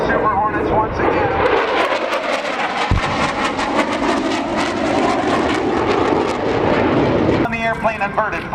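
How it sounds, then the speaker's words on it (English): Super Hornet fighter jets roar past at the 2005 NAS Oceana airshow, a loud sustained engine rush across the whole clip with a brief dip near the end, while an announcer's voice talks over it. "Here come the Super Hornets once again."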